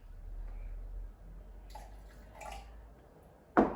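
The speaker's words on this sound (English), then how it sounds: "Then you're going to add a splash of milk." A splash of milk poured from a jug onto cracked eggs, heard as a couple of brief, soft liquid gushes in a quiet kitchen, followed by a sharp knock of the jug at the end.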